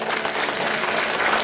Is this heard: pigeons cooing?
no